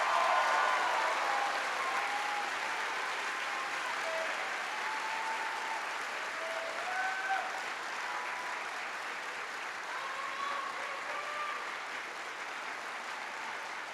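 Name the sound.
applause for Innovation Diploma graduates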